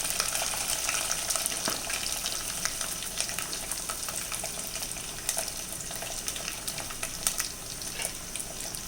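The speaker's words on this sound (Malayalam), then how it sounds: "ഇതെല്ലാം കൂടെ നമുക്ക് നല്ലോണം ഒന്ന് വഴറ്റിയെടുക്കാം" Shallots, green chillies and curry leaves sauté in a pan for a tuna fish curry, a steady close crackling sizzle with scattered pops and stirring scrapes throughout.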